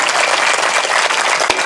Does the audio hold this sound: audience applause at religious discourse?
yes